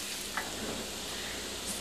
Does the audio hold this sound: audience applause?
no